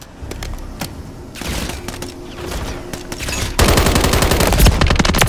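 Automatic gunfire in the video game Call of Duty Modern Warfare III, with rapid bursts and scattered shots growing into a dense, loud sustained volley in the final seconds, with no voices over it.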